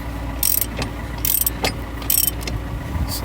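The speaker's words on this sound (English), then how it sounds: "So let's get that bolt tight." Ratchet wrench tightening a bolt in a home workshop, three short bursts of close, crisp clicking separated by brief pauses and faint handling knocks.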